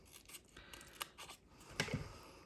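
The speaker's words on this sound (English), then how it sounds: "I'm going to cut my dimensionals in half." Scissors snip through adhesive foam dimensionals for paper crafting, making a few quiet, close crisp cuts with soft rubbing between them.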